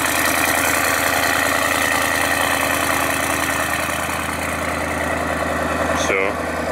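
A Mercedes-AMG E63S idling with its exhaust rumbling, a steady close pulsing burble that cuts off abruptly near the end.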